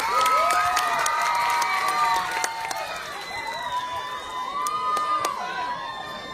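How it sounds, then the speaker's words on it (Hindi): A crowd cheers, shouts and claps for child performers at a lively stage show, the noisy mix of high excited voices and applause strongest at first and continuing throughout. "छोटे धमाकों के लिए जोरदार तालियां हो जाए. Come on, make some noise."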